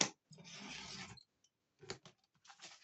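A 4-in-1 paper cutting tool is pressed through paper in a few short rasping, scraping strokes separated by silent pauses, fairly close and quiet.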